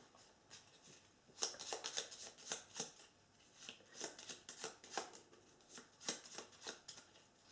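Cards being shuffled during a Middle Earth Quest board game, a run of crisp riffling bursts in quick succession with brief pauses between, fairly close and alone without talk.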